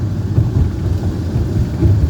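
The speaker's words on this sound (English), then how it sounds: "It's raining out here." Steady outdoor rain with a low, continuous rumble of thunder, loud and close, with no voices.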